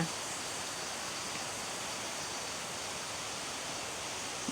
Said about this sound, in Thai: เห็นน้ำตก น้ำตกเขาจะเป็นชั้นเล็กๆเล็กๆลงมา